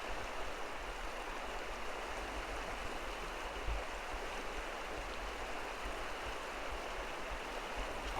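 A dam's generation release is swelling the river where someone is euro nymphing for fish, giving a steady broadband rush of flowing water, faint and even throughout with no voices.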